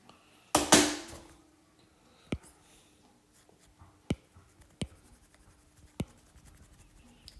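Pencil sketching on paper as mountains and a foreground are copied, a long scratchy burst of strokes near the start followed by sparse, sharp taps and short strokes, close and fairly quiet with no talking.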